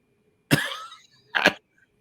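A man coughs twice, close and loud: a long rough cough followed about a second later by a shorter one, with silence around them.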